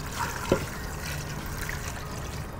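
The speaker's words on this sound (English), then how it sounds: "And now some fresh water." Fresh water poured into a stock pot in a kitchen while making a Vietnamese broth, a steady soft trickle and splash running throughout, with one brief clink of the pot early on and no talking.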